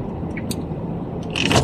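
Car traffic hums on a busy, narrow street in Mansoura, Doha, Qatar, at night, with a steady engine and road rumble close by and a brief hiss of a passing vehicle near the end.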